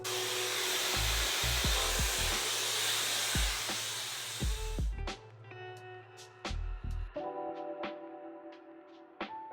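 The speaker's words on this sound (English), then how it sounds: "I'm gonna blow dry it on high, so like the 3 heat dots and the 2 fan dots." Hair dryer blowing on its highest heat and fan setting while straightening 4c natural hair, a loud steady whooshing roar that cuts off midway, leaving clicks and faint music.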